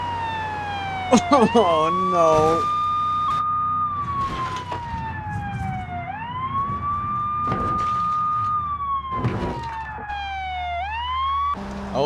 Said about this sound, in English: Let's turn our sirens on and make it legal.